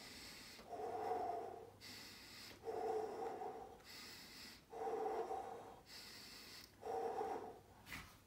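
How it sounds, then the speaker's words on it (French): Four full, deep breaths taken during a floor ab exercise, each a slow audible inhale and exhale at an even pace, close and fairly soft, with no talking. "4 respirations complètes."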